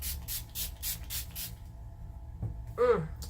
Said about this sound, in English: one more spritz of setting spray and we are done